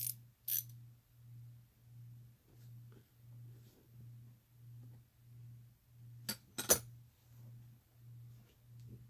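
A ratcheting select-switch wrench clicks in a steady, even rhythm of soft pawl ticks close by and quiet, with a few sharper metallic clinks breaking in.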